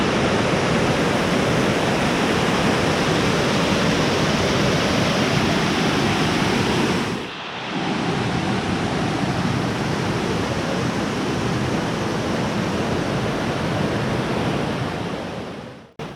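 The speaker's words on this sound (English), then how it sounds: "You can see the falls behind me, a very steep drop-off" Helton Creek Falls roars as a steady, loud, broadband rush of falling water over a steep drop, with a brief dip midway before the continuous wash resumes and then cuts off.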